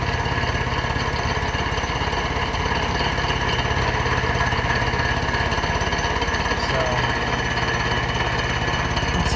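A machine cuts the deck of a Honda K-series engine block during a pinned deck conversion, a loud continuous rattling mechanical roar with steady pulsing, unbroken and without talk.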